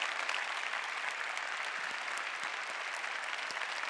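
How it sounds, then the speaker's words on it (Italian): Animators, Salesians and nuns applaud the young people during a Catholic mass at a youth festival, a steady, even wash of many hands clapping, heard at a moderate distance with no pause. "animatori, salesiani, suore, fate sentire voi il vostro applauso ai ragazzi"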